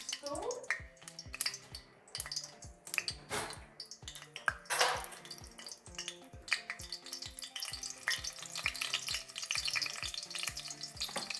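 A whole 14-ounce bag of peas goes into hot oil in a cooking pot for rice and fries with a busy, crackling sizzle. Utensil clinks and stirring scrapes recur over the frying noise.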